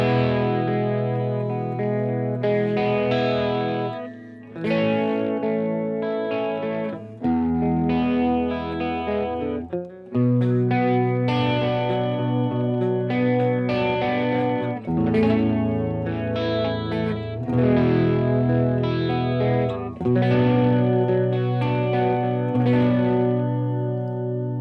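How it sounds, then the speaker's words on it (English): An electric guitar plays chords and melodic phrases through an analog chorus pedal and a Hall of Fame reverb, with a shimmering, wavering chorus and a touch of reverb, steady and fairly loud throughout. "I'm running my analog chorus, then into my Hall of Fame reverb"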